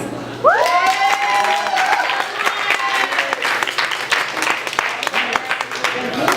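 Following a poetry reading, the audience bursts into loud, sustained applause, with a cheer or raised voice at the start and more voices mixed in over the steady clapping.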